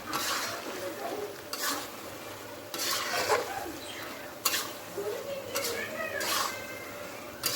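Shrimp and bottle gourd being stirred in a pan, a spoon scraping and knocking against the metal in irregular strokes over a soft sizzle, close and fairly loud, with faint talk at times.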